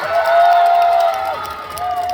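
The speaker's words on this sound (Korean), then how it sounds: "마음에 드신다면 박수 한번." A festival crowd cheers and applauds at the Bonghwa sweetfish festival, a loud, sustained mass of claps and shouts with a steady ringing tone running through it, easing slightly near the end.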